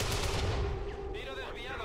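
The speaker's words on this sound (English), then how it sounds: "¡Tiro desviado!" A gunshot in the tactical game XCOM 2, a sharp burst of firing followed by a brief rattling tail.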